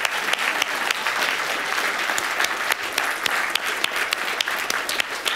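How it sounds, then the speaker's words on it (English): A science-communication competition audience gives a long round of applause for the contestants, a dense, steady wall of clapping from a crowd, fairly close and continuing unbroken with sharp individual claps standing out. "Just another round of applause for our entrance"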